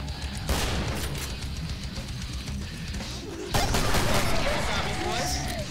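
Lever-action rifle fire in the game Killing Floor, a sharp crack near the start and another heavier blast around the middle, set against constant loud game noise and rumble.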